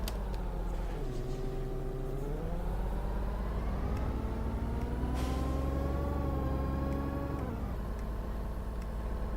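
City bus diesel engine with a Voith automatic gearbox in the OMSI 2 driving simulator, revving up through smooth rising tones, shifting with a quick dip, then settling before easing off, steady and close.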